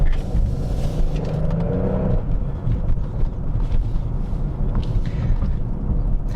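A 2023 Genesis GV70 3.5T luxury SUV with an 8-speed transmission cruising on a normal road, a steady low engine and road rumble heard from inside the cabin, continuous and moderately loud throughout.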